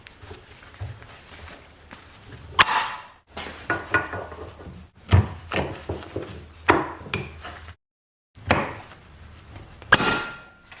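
Steel pipe jaws on a Yost 855-D2 5.5-inch vise get worked into place, giving a series of sharp metallic knocks and clicks with brief pauses between them, close and fairly loud.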